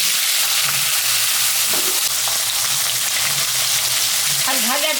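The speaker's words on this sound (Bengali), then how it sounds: "শাকটা আমি মাছের মাথা দিয়ে করব, তাই মাথা এখন ভাজে নিব।" A salted, turmeric-rubbed fish head fries in hot mustard oil in a wok, a loud, steady, crackling sizzle that runs throughout without pause.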